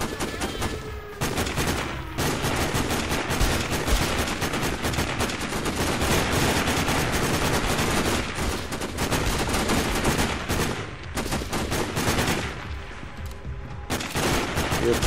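Sustained gunfire in the video game Sniper Ghost Warrior, dense rapid bursts and shots filling nearly the whole stretch at steady loudness, with brief gaps near the start and toward the end.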